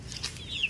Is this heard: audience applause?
no